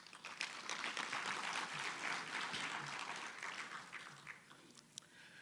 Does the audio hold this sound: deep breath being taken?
no